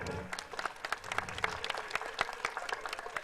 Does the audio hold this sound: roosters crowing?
no